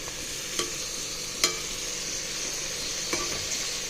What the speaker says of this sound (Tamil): அடுத்து பொடிசா நறுக்கின தக்காளியை சேர்த்துக்கலாம்.